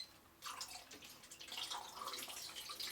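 Film fixer pours into a developing tank for 120 film, giving a close, faint splashing trickle that starts suddenly and runs steadily for a few seconds.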